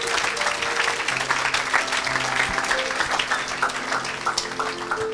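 A church congregation claps and cheers for Jesus during an evangelist's service, with dense, steady applause filling the room throughout.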